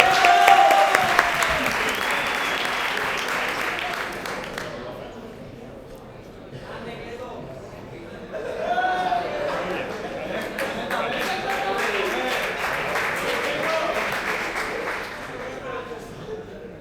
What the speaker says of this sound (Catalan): Un fuerte aplaudiment.